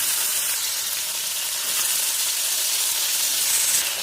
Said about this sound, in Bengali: ম্যারিনেট করা চিকেন উইংসগুলো ফ্রাই করে নেব।